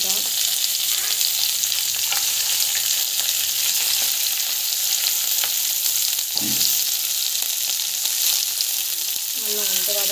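Onion and green chili hit well-heated oil in a pan for a Tamil tomato, onion and mint chutney, setting off a loud, dense, continuous sizzle with faint stirring scrapes throughout.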